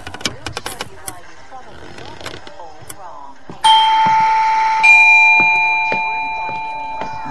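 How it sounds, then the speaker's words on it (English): A doorbell rings inside a house: a loud, sustained electronic chime with a second tone that slowly fades. Faint movement and a few soft taps come before it, and no one speaks. "that'll be the doorbell, Teddy."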